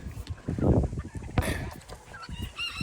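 Free-range chickens outdoors give loud honking, clucking calls in a few bursts over a busy backdrop of scratchy yard noise.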